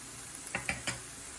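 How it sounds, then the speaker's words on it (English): Noodles or fried rice being mixed in a pan, three quick scraping stirs of a utensil against metal with a faint background sizzle, quiet and close, no voices. "Mix everything really well and top it off with some spring onion"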